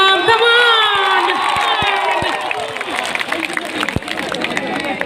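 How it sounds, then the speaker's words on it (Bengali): A large outdoor crowd at a concert at Madhyamgram Poribesh Mela shouts, whoops and claps loudly, dense cheering with scattered sharp claps and a voice talking over it. "একবার নিজেরা একটা নিজেদের জন্য জোরে হাততালি হয়ে যাও"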